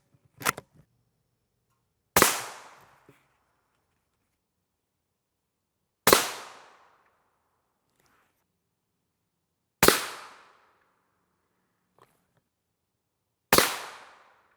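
Rifle shots of M855A1 ammunition fired from a 22-inch barrel at a Protech X-CAL LP NIJ Level III ICW armor plate, five loud, sharp reports with decaying echoes, spaced several seconds apart, heard alone.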